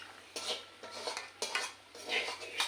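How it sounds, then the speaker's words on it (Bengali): A spoon stirs mutton curry topped with chopped coriander in a metal pot, giving three or four light scraping, clinking strokes in a slow rhythm, close and clear with no talking. "হালকা একটু নাড়াচাড়া করে দেবো"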